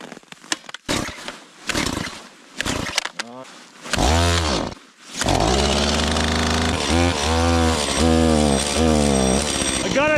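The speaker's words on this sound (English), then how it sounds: "I'm curious to see if that chainsaw will start." A chainsaw in minus 10 degree Fahrenheit cold gets several sharp pull-start yanks and sputters, then fires and settles into a loud continuous buzzing idle with brief revs, very close.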